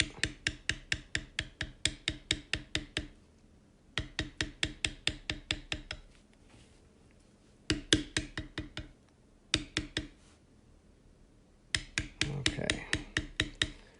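A metal beveling tool is struck by a mallet while tooling a Chief Specialty Pattern into leather, giving crisp, evenly spaced taps in quick bursts of several blows. Brief pauses separate the bursts, and a short word is spoken.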